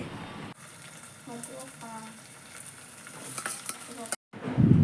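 Onion frying with ginger-garlic paste and chopped tomato in a pan, stirred with a ladle: a steady sizzle with scraping strokes, a brief gap, then louder clatter near the end, under light talk.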